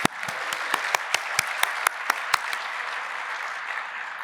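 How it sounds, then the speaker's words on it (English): Audience at a 50th anniversary summit opening ceremony applauding board members, a steady wash of many hands with a few louder individual claps standing out near the front, fading slightly toward the end. "Let's all give these people a really great round of applause."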